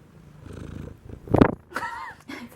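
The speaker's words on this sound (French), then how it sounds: "Elle ronronne." A cat purrs softly in a low, steady rumble, broken by a louder snuffling burst near the middle and a short vocal sound toward the end, heard up close in a quiet room.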